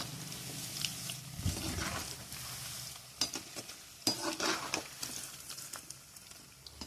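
Balls of dough frying in hot oil give off a steady crackling sizzle with bursts of bubbling and popping, moderately loud and close, with no talk over it.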